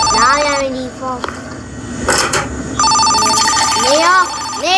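A telephone rings in the video game Maple Ridge with loud, repeated electronic ringtone bursts. A person talks over and between the rings.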